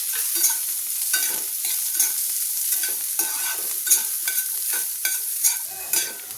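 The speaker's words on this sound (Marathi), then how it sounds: "आता आपण ते पण चांगले लालसर होईपर्यंत परतवून घेऊया" Thinly sliced onions, two medium ones, sautéing in a pan for a dhaba-style dum aloo, a steady sizzle broken by regular scraping stirs of the spatula, close and alone.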